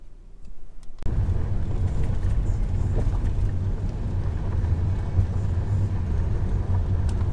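A car drives steadily down a road, a loud continuous low engine and road rumble that starts abruptly after a second of near silence and holds evenly throughout.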